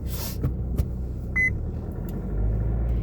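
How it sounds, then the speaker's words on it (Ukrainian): A single short electronic beep sounds inside a moving car, briefly rising above a low, steady road and engine rumble. "Так, що там пікаєш?"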